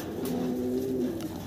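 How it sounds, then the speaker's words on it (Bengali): A single sustained pigeon coo, steady and fairly close, lasting about a second against a faint hum of background noise. "অনেক সুন্দর কবুতর ভাই"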